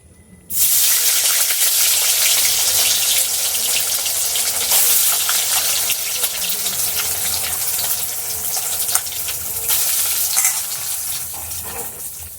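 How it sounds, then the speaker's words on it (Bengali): Soya chunks, squeezed of water, fry in a wok (kadai), giving a loud, steady sizzle and hiss that starts abruptly and runs the whole time with faint stirring clatter and no voices. "আমি সোয়াবিনটা আগে ভেজে নেব কড়াইয়ের মধ্যে দিয়ে"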